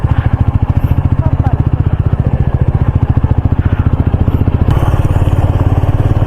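A motorcycle engine labouring up a mountain road, a loud, close, steady throbbing pulse with a slight shift in tone near the end as it keeps climbing; wind noise rides along with it.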